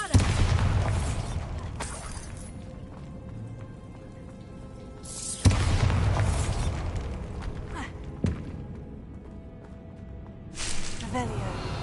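Bombarda explosion spell cast in Hogwarts Legacy: three heavy, broad blasts roughly five seconds apart, each followed by rumbling, crackling debris and a long fading tail.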